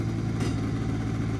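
A 1970s Attex six-wheel off-road vehicle engine idling, a steady low rumbling drone held close and loud for just over a second, with no talk.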